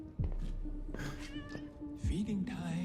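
A cat meows in an episode of the animated series Arcane: several drawn-out, rising and falling meows over a steady low hum and other soundtrack noise.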